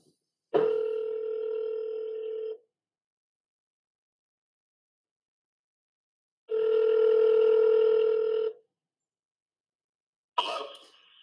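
A telephone rings back twice through the handset while someone places a call, two long buzzing tones about two seconds each separated by silence, then a brief scrape of noise.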